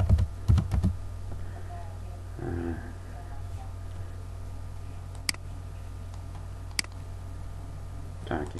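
Someone types a program comment on a computer keyboard at a desk, with scattered key clicks and taps close by, a burst of keystrokes at the start and quieter isolated clicks after, under a steady hum.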